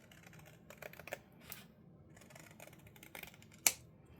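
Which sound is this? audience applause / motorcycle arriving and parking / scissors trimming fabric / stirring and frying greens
scissors trimming fabric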